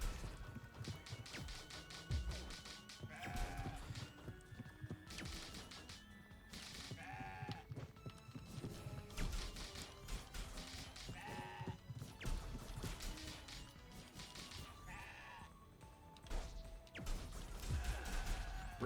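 Bleating cries and smashing hits from a goat enemy in the CrossCode video game, set in snow, with repeated short goat-like calls over busy game music and impact sounds.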